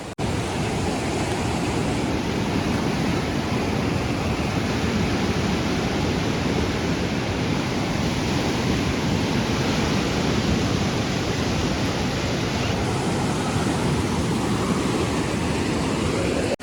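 Rushing river water after a flood in Kullu-Manali, a continuous, loud, broadband roar of fast-flowing current that stays steady and unbroken with no voices.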